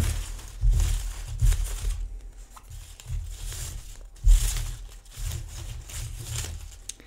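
Paper lottery slips shuffled and mixed by hand, heard as close, continuous rustling and crinkling in uneven surges with a few louder crumpling bursts, no talking.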